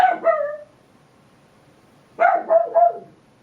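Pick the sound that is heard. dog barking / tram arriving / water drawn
dog barking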